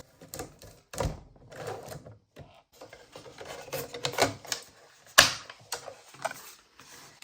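Hand punch notching a junk journal page, producing a few sharp clacks and thunks spaced irregularly amid quiet handling rustles, close and fairly faint with no voices.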